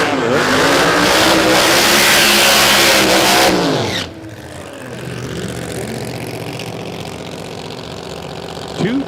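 A supercharged, single-turbo 2JZ Camaro drag car at Willowbank Raceway, its engine roaring loud and close with rising harmonics, cutting off abruptly, then dropping to a lower rumbling idle with a burble at the end.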